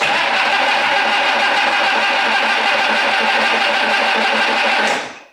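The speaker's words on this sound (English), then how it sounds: "Fantastic engine starter." The starter of a long-stuck 1962 AMC Rambler cranks the engine in one continuous, loud, close whirring churn that runs steadily for several seconds, then stops.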